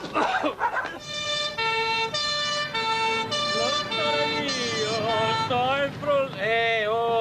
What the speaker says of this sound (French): Oh, arrête ces sirènes abruties.